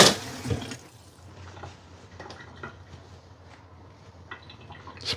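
Running water splashes and patters while a spatula is rinsed at a kitchen sink, a brief louder gush at the start then softer trickling and dripping that continues steadily.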